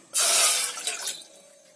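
A cup of water poured into a pan to start sugar syrup for carrot sweets, a sudden loud splashing gush that tapers into softer trickling and bubbling over under two seconds.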